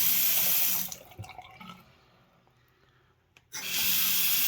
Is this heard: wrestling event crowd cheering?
no